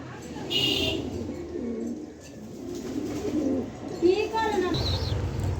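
Pigeons for sale cooing in a loft, soft repeated throaty coos with some chirps, close by, while someone talks over them.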